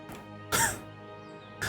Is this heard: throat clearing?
yes